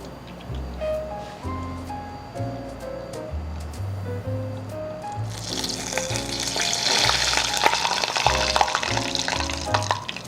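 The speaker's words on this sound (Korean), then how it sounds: "기름 끓는 소리" Oil heating in a pan for financier batter starts to sizzle and crackle loudly about halfway through, after quieter kitchen clatter over soft background music, then keeps hissing steadily up close.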